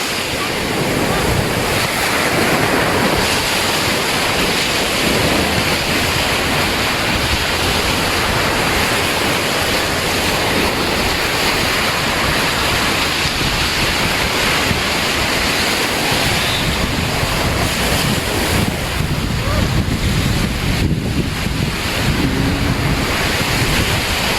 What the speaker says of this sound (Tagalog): Dagat dito.